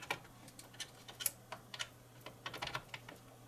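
The truss rod of a Schecter Diamond Series 7-string guitar is turned with a tool, making faint irregular ticks and small clicks close by, quiet and without talking.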